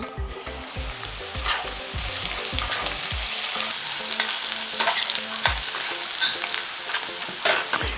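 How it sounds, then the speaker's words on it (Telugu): Onions frying in oil in a pan for a dhaba-style okra masala fry, hissing steadily while a spatula scrapes and taps in quick irregular strokes, with the sizzle swelling louder midway. "ఒక నిమిషం పాటు ఉల్లిపాయను మగ్గనించుకుందాం."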